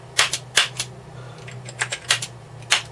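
Keys clack sharply on a new hard membrane computer keyboard, about nine distinct strikes in an irregular rhythm over a low steady electrical hum, close and fairly loud.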